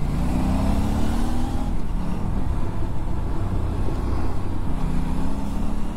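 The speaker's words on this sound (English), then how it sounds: "And it growls. The exhaust note is so good." An Aprilia RS 457 motorcycle growls at a steady idle, its exhaust note a loud, close, continuous low rumble with no voices over it.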